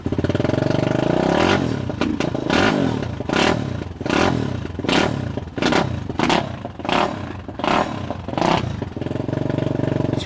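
A motorcycle engine revs under throttle in rough, rising bursts, loud and close, with a clattering mechanical tone surging and dropping in a repeating rhythm, without speech.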